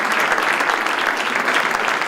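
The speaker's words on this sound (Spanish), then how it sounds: "Todos ellos han recibido a Felipe VI con un sonoro aplauso." A large crowd of guests at an award ceremony in Galicia applauding King Felipe VI, dense sustained clapping filling the room throughout.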